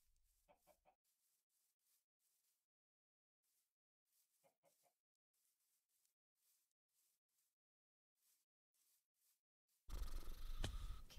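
Minecraft chicken clucks softly in short, scattered bursts, faint and intermittent, before a sudden loud burst of noise at the end.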